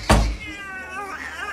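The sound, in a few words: cat meowing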